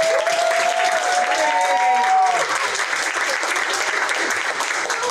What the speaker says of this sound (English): feel free to cheer and show them how excited you are that they are graduating